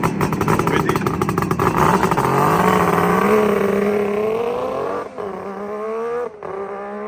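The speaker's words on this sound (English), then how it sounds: "What a sound with these expansion exhausts." A Suzuki GT550 RamAir two-stroke motorcycle with expansion exhausts starts and revs up, a loud, close, rising engine roar that settles into a burbling idle with a couple of brief dips.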